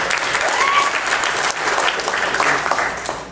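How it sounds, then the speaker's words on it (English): A comedy club audience breaks into loud, full applause that holds steady for a few seconds before tapering slightly at the end. "by round of applause, how many of you guys have a name that gets mispronounced all the time?"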